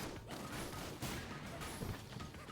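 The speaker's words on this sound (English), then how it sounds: "Again, with those explosions," Explosions from the video game ARMS, a flurry of sharp blasts and crashing bursts in quick succession, fairly faint and with no voices.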